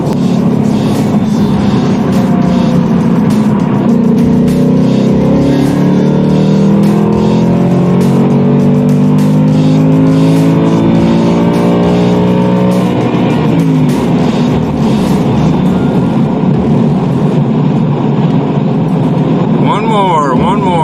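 A stock 2020 Ford Mustang GT running E40 fuel accelerates hard, its V8 roaring loud and close as the engine note climbs steadily through the revs, then eases off and builds again near the end.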